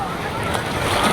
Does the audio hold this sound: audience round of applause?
no